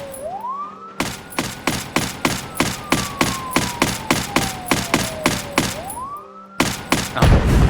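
Rapid, evenly spaced turret gunfire in the video game Project Zomboid, about twenty loud sharp shots in a steady rhythm over a wailing rising-and-falling siren tone, breaking off briefly before another burst and a heavier rumbling blast at the end.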